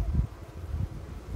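Honeybees buzzing from a freshly opened beehive during work to merge two bee colonies, a dense low droning hum that swells and dips steadily throughout.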